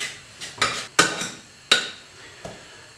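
A spoon with holes beating and creaming butter in a bowl for gluten-free, lactose-free cookies, heard as five or six separate knocks and scrapes against the bowl at irregular intervals, close and fairly loud with quiet gaps between.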